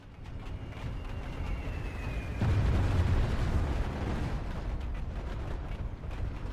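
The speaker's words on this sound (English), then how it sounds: "I'm firing my grenade" A grenade fired in a squad-based combat video game, a deep low boom that rises out of a noisy battle bed midway and rumbles on under steady background din.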